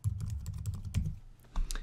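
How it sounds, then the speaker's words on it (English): Quick keystrokes on a computer keyboard while typing a search into Windows 10, a rapid run of close, soft clicks with a brief pause before the last few taps. "clicking on Start and typing the word Control."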